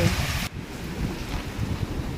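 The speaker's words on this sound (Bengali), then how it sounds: "দেখো কি ঝড় বৃষ্টি উঠেছে" A strong storm of wind and rain beats against a home with a balcony, a steady broadband roar of gusting wind and rainfall that fills the whole short stretch without talk.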